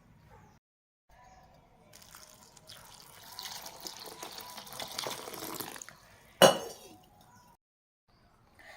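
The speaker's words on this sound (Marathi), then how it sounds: "आता आपल्याला हे एकदा स्वच्छ पाण्याने धुवून घ्यायचा आहे" Chopped ridge gourd is rinsed in clean water in a kitchen vessel: soft sloshing and trickling with light clinks, a sharp clatter midway, then quiet.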